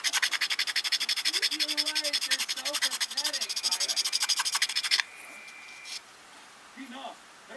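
Sandpaper rubbing back and forth over a plastic Hasegawa F-4/F-15 model kit part, a fast steady scratchy rhythm of strokes that stops partway, followed by quieter handling and a faint voice.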